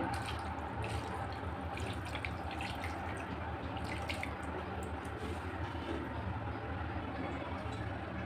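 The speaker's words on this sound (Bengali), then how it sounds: "এখন এখানে পরিমাণ মতো পানি দিয়ে দিচ্ছি" Water pours steadily into a cooking pot, a continuous splashing, trickling sound at moderate level with no talking.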